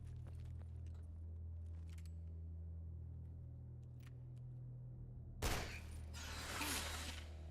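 A single gunshot rings out in the survival horror game Ground Zero, a sharp loud blast with a lingering tail over a steady low hum and scattered faint clicks.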